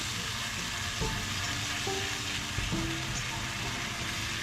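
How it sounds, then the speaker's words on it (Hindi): Masala for chicken korma frying in a pan, a steady close sizzle with a few stirring knocks and scrapes, no talk over it. "भूनेंगे अच्छे तरीके से, मसाला ना जले।"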